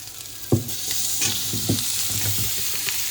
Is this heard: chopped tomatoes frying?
yes